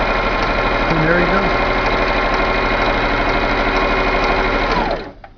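Singer sewing machine stitching a seam, a loud continuous close-up whirring drone of the motor and needle running steadily before stopping abruptly at the end, with a faint voice briefly audible underneath.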